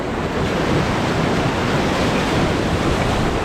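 Whitewater rapids on a rafting run, a dense steady roar of rushing water mixed with wind buffeting the microphone, loud and continuous with no voices.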